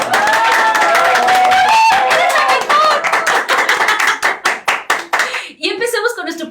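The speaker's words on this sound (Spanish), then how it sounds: "Pues mi querido maestro Guillermo, yo quiero primero que nada pedirles que recibamos con un fuerte aplauso a Frida, nuestra querida productora." A studio audience on a Spanish-language talk show claps, starting as a full burst of applause under overlapping voices and thinning into scattered individual claps before talk resumes.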